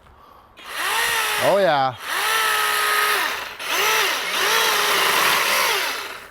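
EGO Power+ multi-head cordless power tool cutting branches outdoors on speed 1, a loud close whining motor that revs up, dips briefly in pitch, then runs steadily with small load changes; a voice briefly speaks over it.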